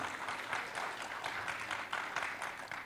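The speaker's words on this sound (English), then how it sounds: "Let's give a big applause first to these three panelists." Hands clap together at a scientific conference as the audience applauds three panelists, dense and steady with faintly distinct individual claps, at moderate volume throughout.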